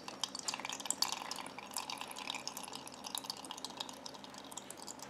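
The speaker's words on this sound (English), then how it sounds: "Just pour it into the measuring cup, y'all." Cooking liquid from a PowerXL Vortex 10-quart air fryer oven is poured into a measuring cup, a steady trickling and dripping splash that runs continuously and fairly quietly, with no talk.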